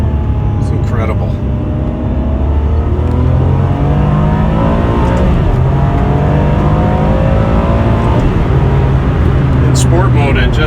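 A 2003 Ferrari 575M engine pulls hard and loud from inside the car in sport mode, revving up through crisp gear shifts with rising and falling pitch as it accelerates.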